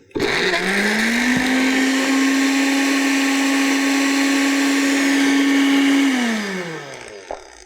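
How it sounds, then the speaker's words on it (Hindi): A blender blends frozen bananas with cocoa powder, spinning up to a loud, steady whirring drone that holds for several seconds, then winds down and stops, with a faint knock after. "बस आप इसको ब्लेंड कर दीजिए।"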